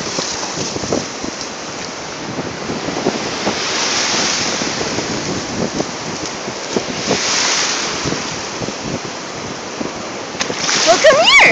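Ocean waves break and wash up on a beach in surging swells, heavy wind buffeting the microphone, with a person talking to a dog at times.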